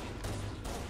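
A shotgun fires in the video game Halo CE Anniversary, two quick loud blasts inside a dense wash of close battle noise.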